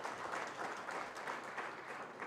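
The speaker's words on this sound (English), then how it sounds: "let us give her a round of applause for her dedication" A conference audience at an education summit gives a steady round of applause, sustained clapping throughout with no talk over it.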